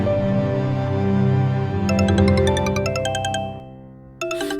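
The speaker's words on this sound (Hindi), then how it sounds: "सर, सोम्या पाठक का फोन है, प्लीज उठाइए ना।" A phone rings with a bright repeating electronic chime pattern over a steady musical bed, the tones pulsing in quick bursts, pausing briefly, then starting again loudly near the end.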